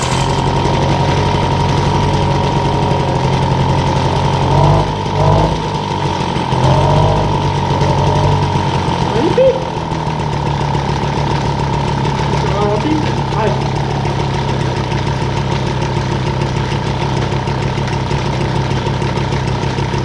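A blue Motobecane AV79 moped engine runs at a steady, buzzing idle throughout, loud and close. Someone speaks French over it, and there are a few brief clunks partway through.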